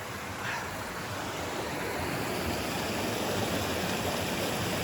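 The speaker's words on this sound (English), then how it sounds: "Here's the creek." A creek on the Pacific Crest Trail runs beside a washed-out bridge, giving a steady, fairly soft broadband rush of flowing water that never lets up, with no voices over it.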